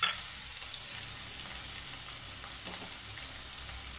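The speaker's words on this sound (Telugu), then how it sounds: "సన్నగా కట్ చేసుకున్న ఉల్లిపాయ ముక్కలు. ఉల్లిపాయ ముక్కలు బాగా వేగాలండి." Thinly sliced onions fry in a pan with curry leaves for tomato rice, giving a steady, close hiss of oil and sizzling with occasional soft stirring noises, and no voices.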